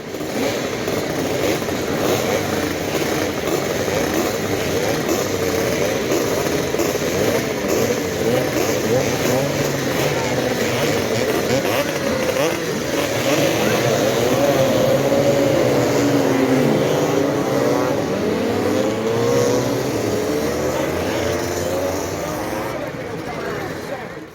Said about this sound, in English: 6 hours of scooter racing.